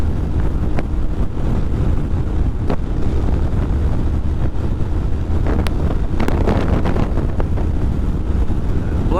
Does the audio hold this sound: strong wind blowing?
yes